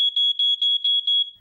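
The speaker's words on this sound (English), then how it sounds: "A photoelectric alarm, meantime, is triggered by the first wisps of smoke" A photoelectric smoke alarm sounds alone: a loud, piercing, high-pitched electronic beep pulsing rapidly, about six pulses in just over a second, then it cuts off.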